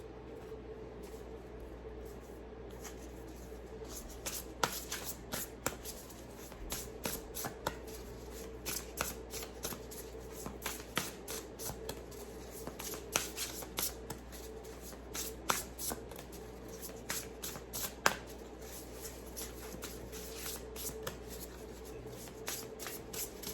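A deck of tarot cards is shuffled repeatedly and close by, with soft riffling and sharp card slaps at irregular intervals over a quiet steady background hum, with no talking.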